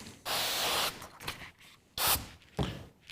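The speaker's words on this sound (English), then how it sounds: "Spray again our slip solution." A spray bottle spritzes slip solution onto a surface, with three separate hissing bursts: one long spray followed by two shorter ones, close up and fairly quiet.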